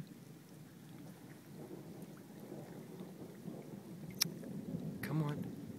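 Summer thunderstorm in Sweetwater, with steady rain and a low rumble of thunder building beneath it, a sharp crack near the end, heard outdoors at close range.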